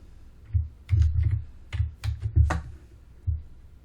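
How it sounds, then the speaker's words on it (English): Keys on a computer keyboard tap out a command at a Linux terminal, a short irregular run of soft clicks and thumps, close and moderately loud with brief pauses between strokes. "Finally, mount the disk by typing the following command."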